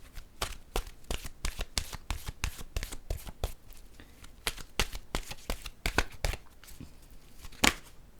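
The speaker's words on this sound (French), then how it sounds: "Je vais piger une carte de mon oracle de l'âme intuitive pour voir," Oracle cards being shuffled and drawn, a rapid run of crisp riffling slaps repeating steadily for several seconds, close and clear, ending in a single sharper snap as a card is pulled.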